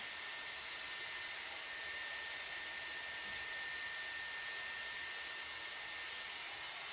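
A Dyson Airwrap hair styler runs with a steady, fairly quiet airflow whoosh that holds unchanged from start to finish, with no voices.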